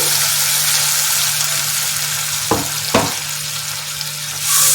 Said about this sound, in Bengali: আদা, কাঁচা লঙ্কা, টমেটোর পেস্টটা আমি কড়াইয়ের মধ্যে দিয়ে দিলাম